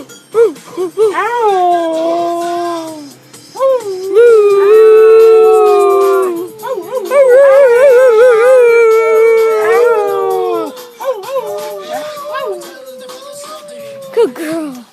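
A dog howls along to a person's singing and rhythmic 'woo' calls, which imitate the howl. Long, wavering howls rise and fall for several seconds at a time, loud and close, with the human voice mixed in.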